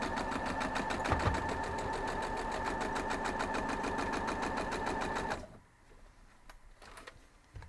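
A sewing machine stitches a quilt block seam with a rapid, even mechanical chatter for about five seconds nearby, then cuts off, leaving quiet handling clicks and rustles.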